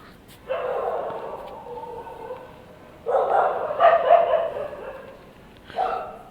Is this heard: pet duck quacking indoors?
no